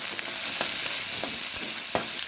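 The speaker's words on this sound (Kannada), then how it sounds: "ಒಂದು ಶುಂಠಿ ಇದನ್ನು ಪೂರ ಫ್ರೈ ಮಾಡ್ಕೊಡು" Ginger frying in a pan for a mackerel green masala: a steady, close hiss of oil broken by scattered clicks and scrapes of stirring.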